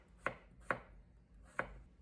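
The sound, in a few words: chopping potatoes into thin pieces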